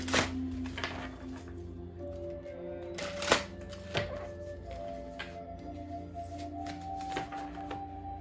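Black Moon astrology cards are shuffled by hand in a quiet room, giving soft riffling bursts, a couple of sharper taps and thumps, and a low steady hum underneath.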